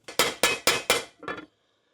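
Four sharp, evenly spaced metallic hammer strikes on a socket drive a bearing into a Honda CRF450X part, followed by a softer double clink, close up and ringing briefly before silence.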